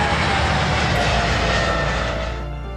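A fixed-wing airplane flies past, its broad steady engine roar loud and close, holding for most of the stretch before easing slightly near the end, with no talk.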